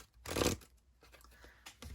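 A heart-themed tarot deck is shuffled by hand, one brief, close riffling burst of stiff cards followed by quieter handling rustles.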